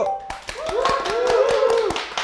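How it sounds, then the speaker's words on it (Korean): A small group claps in quick, sharp bursts inside a battery company's facility, distinct hand strikes spaced unevenly over a few seconds while a voice carries on underneath. "박수!"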